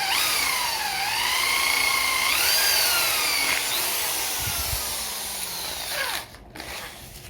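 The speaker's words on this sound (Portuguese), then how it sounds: "com uma lixazinha 600 eu vou posicionar ela nessa forma e vou ligar a furadeira" An electric drill spins a Singer 15C sewing machine part against 600 grit sandpaper, giving a loud, steady high whine with gliding pitch shifts that drops off abruptly near the end.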